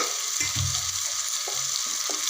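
Green peas added to a pan of sautéed onion and tomato for a millet, broccoli and pea khichdi, giving a continuous close sizzle broken by a few soft stirring scrapes and clunks.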